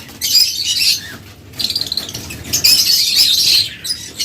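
Caged lovebirds chirp shrilly up close and flutter their wings in bursts, with busy, bright calls rising and falling over a few seconds.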